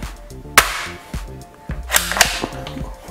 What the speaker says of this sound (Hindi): इसका बोल्ट एक्शन देखिए यहाँ पर है।